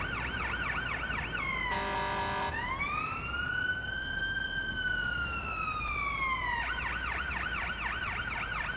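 An ambulance siren in the paramedic game Ambulance Life sounds continuously and close, switching from a rapid warbling yelp to a long rising and falling wail, with a short blast of horn, then back to the yelp.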